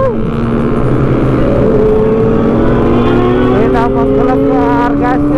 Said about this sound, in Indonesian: Raungan CBR 600.